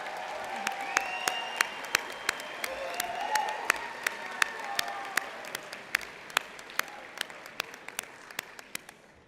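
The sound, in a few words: applause from convocation audience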